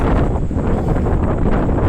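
Steady, loud wind buffets the microphone with a dense, continuous roar around the Malampuzha dam in Kerala, ringed by hills, with no talk over it.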